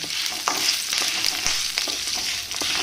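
Curry leaves dry-roasting in a pan for a spicy black chili powder, a steady bright sizzle with soft scraping stirs and occasional light clicks, close and unbroken, no voices.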